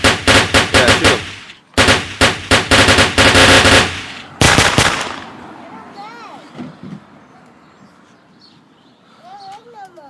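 Toddlers' toy guns fire loud rapid bursts of shots, several quick volleys close by in the first half, then quieter background with children's voices calling out.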